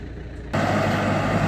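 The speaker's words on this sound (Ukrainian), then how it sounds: "І трактор з комбайном і бункером продовжують збирати горіх." A tractor pulling a hazelnut combine harvester with a hopper works in an orchard, its engine and machinery roar rising abruptly into a loud steady broadband rumble.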